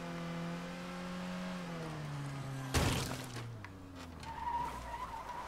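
Car in State of Decay 2 driving with a droning engine that drops in pitch, then a sudden tire skid and crunching impact before the motor carries on.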